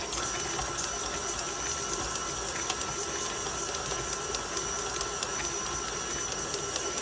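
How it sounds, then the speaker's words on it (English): An electric mixer whirs steadily as it creams butter and sugar for a Guyanese light fruit cake, a constant even drone with faint rhythmic clicking. "Now we're gonna start with the process of creaming the butter and sugar together."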